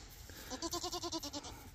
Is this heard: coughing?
no